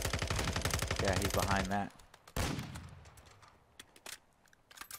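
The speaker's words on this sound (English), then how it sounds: "The player is shooting at that." Rapid automatic gunfire in Call of Duty: DMZ rattles in a dense burst, followed by a single loud shot and scattered distant shots, with a voice talking briefly over it.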